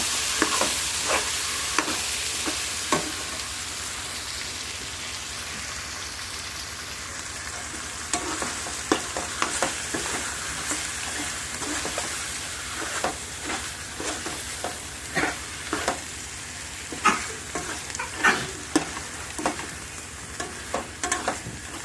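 Gongura chicken with tomato being stirred in a frying pan: steady sizzling broken by repeated scraping strokes of a spoon, growing louder and busier toward the end, close up with no talking.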